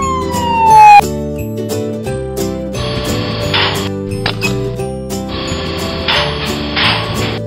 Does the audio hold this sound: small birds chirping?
no